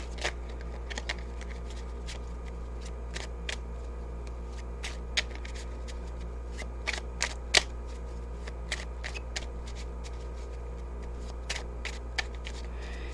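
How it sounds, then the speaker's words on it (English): Tarot cards are laid one on top of another in a spread, giving soft, scattered slaps and flicks at irregular intervals over a steady low hum, with no talking. "I'm going to throw one card on top of each of these and see what we've got"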